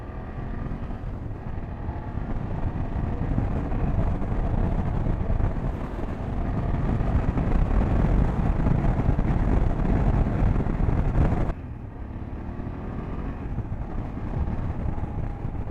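A 2024 BMW F800GS motorcycle being ridden, a loud continuous roar of engine and rushing wind buffeting the microphone, which drops abruptly to a lower, steadier drone near the end.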